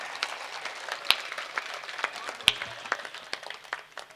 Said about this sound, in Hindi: पूरा सदन हाथ खड़े करके जोरदार तालियां बजाए